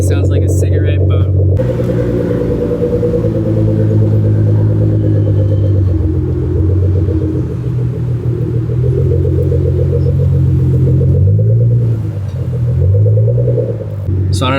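A Nissan GTR with an Fi exhaust, valves open, rumbles deep and loud at close range, holding a steady heavy drone with slight swells and dips in pitch throughout.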